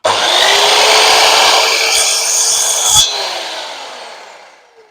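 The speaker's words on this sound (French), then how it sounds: "en termes de bruit, ça reste une scie" A Parkside radial miter saw whines loudly as it cuts through wood, with a brief bump near the end, then spins down and fades out.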